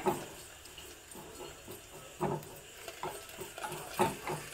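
Spices roasting in a hot pan with the stove switched off for a traditional huli, giving a faint, steady crackle and soft popping with a few louder ticks scattered through, close by and with no voices.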